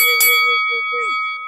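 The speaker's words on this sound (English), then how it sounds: "hit that notification bell" A bright metallic bell ding rings once and sustains with a clear ringing tone that decays, loud and alone with no talking.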